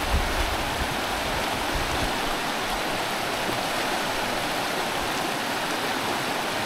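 A mountain river in a remote part of the Philippines rushes steadily nearby, a constant broad watery roar with no pauses and no voices.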